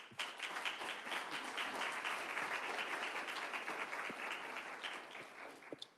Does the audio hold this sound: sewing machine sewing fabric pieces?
no